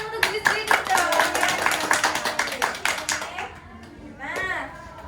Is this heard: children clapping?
yes